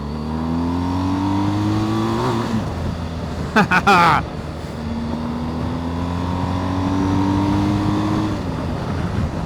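A 2023 BMW R1250 GSA motorcycle's boxer engine revs up in two long rising pulls, steady and fairly loud, with a brief burst of louder noise between them.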